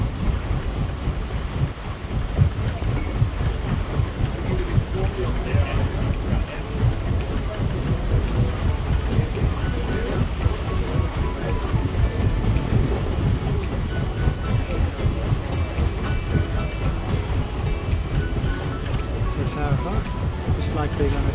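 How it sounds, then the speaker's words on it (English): A paddle steamer named Hero chugs steadily on a river at Echuca, Victoria, its continuous rhythmic rumble and low churning like a steam train, loud and close throughout with speech over it. "Just like being on a steam train, but on the water."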